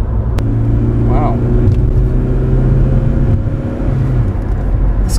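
A 1992 Volvo 740 Turbo's engine pulls steadily at about half throttle, a loud continuous rumble with a rising tonal drone heard from inside the car, with no distinct turbo whistle.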